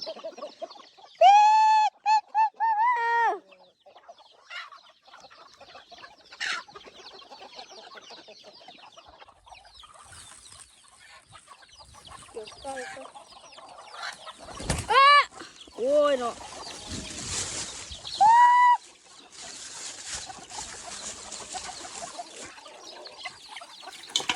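Chickens cluck and squawk in a rice field as they are fed, with geese and ducks among them, close and loud in bursts, while someone talks between the calls.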